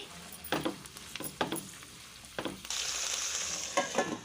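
Tomato pieces, tamarind and green chillies sizzle in a hot pan as a spoon stirs them, with scraping strokes over a steady frying hiss that grows louder near the end.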